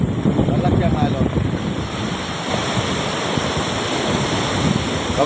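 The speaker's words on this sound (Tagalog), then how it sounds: "Kasi sisirain siya ng alon. Kasi malalaki ng alon. Malalaki ang alon." Large typhoon-driven ocean waves crash and churn near the shore where boats sit, a loud, constant rumbling surf with strong wind noise throughout and no clear speech.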